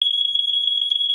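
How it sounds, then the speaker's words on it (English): A smoke alarm sounds a loud, steady high-pitched electronic tone, continuous and unbroken with no pauses and no voices over it. "It's definitely the fire alarm."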